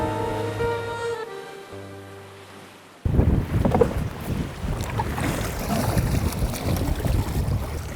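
A fishing boat carrying four men heads out on the Black Sea off Batumi. After a few seconds of steady tonal hum, a loud, continuous wind-buffeted rush of boat and water noise takes over and holds to the end.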